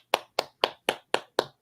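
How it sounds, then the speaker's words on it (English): Six sharp hand claps in a steady, even rhythm, close and loud, with short gaps of silence between them and no talking. "this is when you, gentlemen, this is when you clap."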